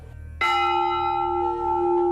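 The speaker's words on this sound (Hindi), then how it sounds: "ये आप देखें सबसे लोग घंटा लगा हुआ है, ये 14 कुंटल का है" A huge 14-quintal temple bell at Bateshwar Dham is struck once and rings loud and close, its rich metallic tone with steady harmonic overtones holding and slowly fading over about two seconds.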